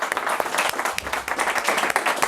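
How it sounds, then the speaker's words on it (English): Crowd of football academy players and staff applauding teammates after a penalty shootout, a brisk round of clapping with uneven bursts, fairly close. "Round of applause to the 5 players that stepped up and took a penalty."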